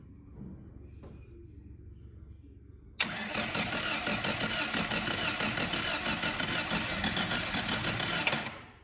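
An engine in a Scamp cranks and then catches, moving from a quiet low rumble into a loud, busy running clatter that lasts several seconds and drops away at the end.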